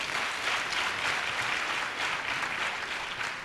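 A large crowd applauding steadily, a dense wash of clapping with slight swells, no voices standing out.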